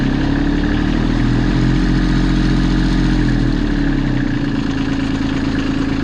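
A Kubota B2650 tractor engine runs steadily under throttle, a loud, close mechanical drone with a slight pitch shift partway through, then holds at a constant hum with no talking.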